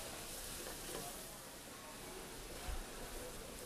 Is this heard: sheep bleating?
no